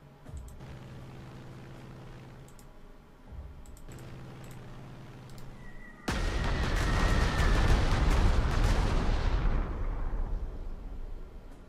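Artillery fire in the Panzer Corps 2 wartime strategy game: after a few seconds of low background hum, a sudden heavy blast erupts and rumbles loudly for several seconds before slowly fading.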